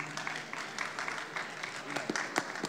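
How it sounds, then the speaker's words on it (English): Clapping from a crowd at a PAX East 2018 game show, a steady patter of many hands blended with loud chatter and voices over the whole stretch. "What are we clapping for?"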